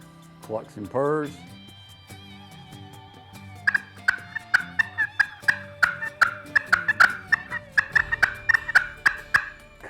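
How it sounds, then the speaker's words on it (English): Glass slate turkey call, freshly conditioned with a diamond pad, giving a few sharp clucks and then a long run of rapid rhythmic purring notes, close and crisp, with a voice heard briefly. "clucks and purrs."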